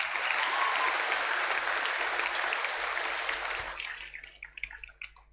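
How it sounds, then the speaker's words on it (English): Audience applause for a singer at a 2022 awards night, steady and full for several seconds before thinning into scattered last claps and fading out. "Give her another clap, lads."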